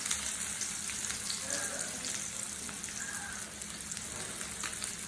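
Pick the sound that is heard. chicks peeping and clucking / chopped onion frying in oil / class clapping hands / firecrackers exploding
chopped onion frying in oil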